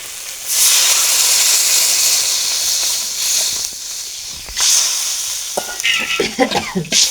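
Spices for a shing fish curry frying in a pan with broth added, giving a loud, steady sizzling hiss broken by stirring scrapes and a burst of crackling bubbling near the end, with no talking.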